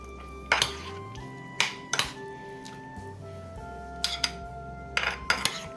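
A utensil knocks and clinks against a pan while prawn malai curry with yogurt is mixed, sharp metallic taps arriving in small irregular clusters over a quiet kitchen background.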